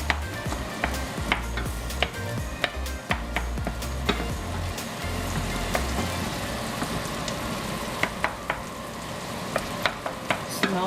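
Burger steak with onions sizzling and frying steadily in a pan, with repeated sharp scrapes and clicks of stirring throughout, close and continuous.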